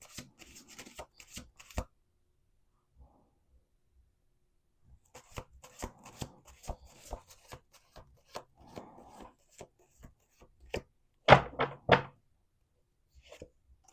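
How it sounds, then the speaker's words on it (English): A deck of cards is shuffled during a tarot-style reading, bursts of riffling and rubbing spread across the stretch with quiet gaps, ending in a louder final riffle near the end. "Last shuffle."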